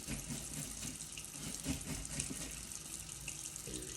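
Running tap water splashes steadily while a paint brush is rinsed under it, a close, continuous wash of water with small irregular spatters as the bristles move through the stream.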